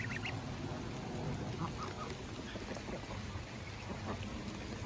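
Steady rain falls outdoors by water, a dense broadband hiss filling the whole stretch, with a few faint duck-like calls poking through near the start and middle.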